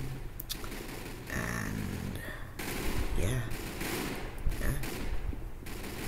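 Guns fire in the video game Arsenal, with bursts of shots and fusillade-like crackles under a steady game soundscape, moderately loud and continuous.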